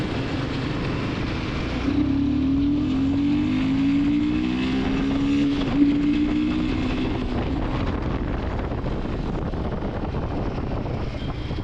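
Royal Enfield Himalayan 450 Sherpa motorcycle engine under throttle on the road, a rising then settling engine whine partly masked by heavy wind rush, steady and moderately loud.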